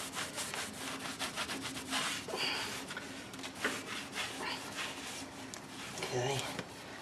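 A rag wiping down brake rotors on a 2011 Chrysler 200 after brake cleaner, with rapid rhythmic rubbing strokes close by and a person talking at times.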